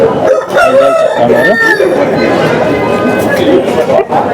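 Roosters crow repeatedly at the busy Bangarpet breed-fowl market, loud, overlapping calls close by amid clucking and the chatter of a crowd.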